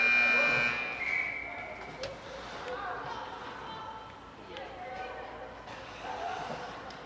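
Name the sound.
shot clock buzzer at a hockey game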